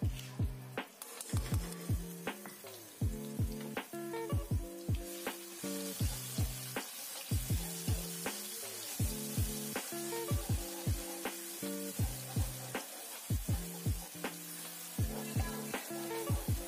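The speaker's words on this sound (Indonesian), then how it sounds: "Kemudian di sini aku mau tumis bumbunya." A paste of ground shallot, garlic and pepper sizzling and frying in a pan, with continuous hissing and rhythmic scraping stirs throughout, close and fairly loud, no voices.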